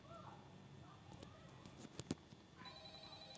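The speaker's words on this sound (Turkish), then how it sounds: "şu telefonda şey e, telefon çalıyor yine" In the Five Nights at Freddy's video game, a phone rings in a faint electronic tone that starts late and sounds alone over a low background hum with a few clicks.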